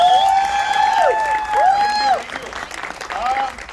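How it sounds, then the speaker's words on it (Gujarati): Steady applause from an audience at the premiere of the Gujarati film 'Surprise', rising and ebbing over a few seconds, with bright whistle-like tones sweeping above it. "તાળીઓ બહુ ઠંડી ઠંડી આવી રહી છે."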